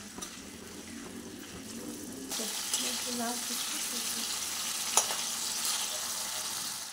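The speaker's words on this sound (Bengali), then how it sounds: "চিংড়ি তো বেশি ভাজবে না, অল্প ভাজলেই হবে।" Shrimp frying in a pan for a home-cooked Sunday meal, a steady close sizzle that grows louder partway through, with a few stirring scrapes and clinks.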